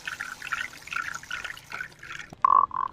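An instrument imitates flowing river water in a nature-sound performance, with burbling, gurgling pulses in a loose rhythm, ending in a couple of brighter, louder glugs.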